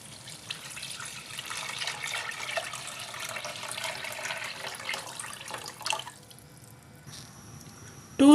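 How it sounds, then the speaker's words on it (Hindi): Stock (yakhni) is poured into a pot of rice for beef matar pulao, giving a close, steady liquid splashing and trickling for several seconds before tapering off, followed by a brief clink at the end. "6 कप यखनी ऐड करेंगे।"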